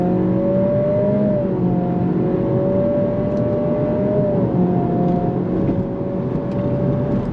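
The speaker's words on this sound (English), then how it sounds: "Let's do another acceleration. We're gonna put it back into drive and then back into sport." A 2023 Acura Integra with a CVT accelerating in sport mode, a loud, steady engine drone heard from inside the car, its pitch holding high with slight rises and dips rather than distinct gear shifts.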